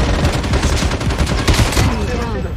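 Rapid bursts of automatic gunfire in the mobile shooter Call of Duty Mobile, loud and close, sharp repeated cracks overlapping in dense volleys throughout.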